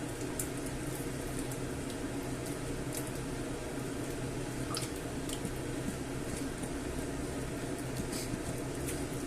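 Fried tomato goes into a hot pan of tuna and clam rice, giving a dense, steady sizzle and bubbling hiss with scattered small pops, close and continuous with no talking.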